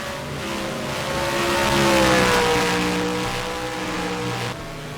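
Stock race cars rounding Road America in the PSRLA Cup Series, engines droning steadily with a rising then falling pitch as they pass, loud and continuous with no talk over them.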